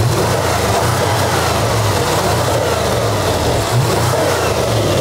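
An Audi A6 C7 engine revs loudly and steadily close by under the open hood, a continuous full engine roar with no talk over it.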